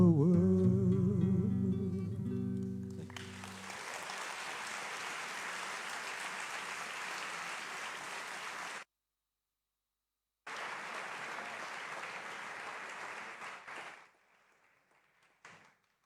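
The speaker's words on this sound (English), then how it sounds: "Let's give him a round of applause, ladies and gentlemen." A musical chord gives way to broad, sustained applause from a large audience, cut off by a brief silence, then resuming before fading out.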